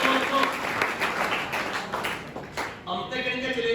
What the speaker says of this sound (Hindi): अपने संस्थान के लिए इस बात के लिए तालियां बजाओ